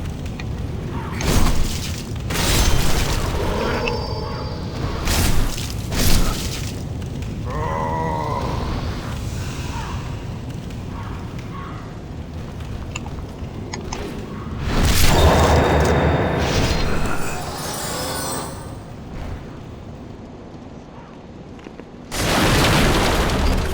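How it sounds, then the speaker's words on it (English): Fire bombs exploding in Demon's Souls, with several heavy booms and bursts scattered among whooshes and grunts, loud and close with quieter stretches between the blasts. "Fire bombs."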